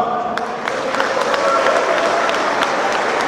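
Applause fills a crowded beer-hall evening held by a miners' trade union, a loud, dense patter of many hands clapping steadily with some crowd noise mixed in.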